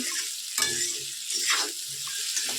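Potatoes coated with salt and turmeric frying in a pan for a home-style Bengali curry, close sizzling broken by several stirring scrapes and clatters of a spatula, no speech.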